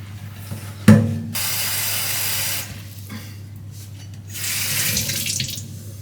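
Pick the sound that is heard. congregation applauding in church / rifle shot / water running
water running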